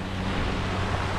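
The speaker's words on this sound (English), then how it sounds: "Damn, the waves are so heavy." Heavy ocean waves breaking on Shelly Beach near Lamu, a continuous loud roar of surf with wind noise on the microphone, steady throughout with no voices.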